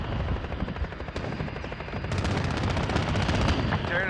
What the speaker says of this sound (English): we're taking some fire.